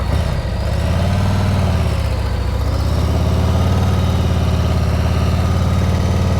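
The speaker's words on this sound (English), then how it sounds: "as I'm approaching, listen to the engine. It's gonna stay the same or almost the same." A motorcycle engine runs at low speed with a steady, low throbbing rumble, close and even throughout, no voices.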